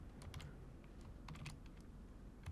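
Quick, uneven keystrokes tapping on a computer keyboard while C++ code is typed, with short bursts and pauses, close and fairly quiet.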